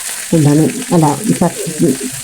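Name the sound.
tempering of mustard seeds, shallots, green chilies, curry leaves in coconut oil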